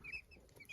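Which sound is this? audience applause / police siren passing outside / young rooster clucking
young rooster clucking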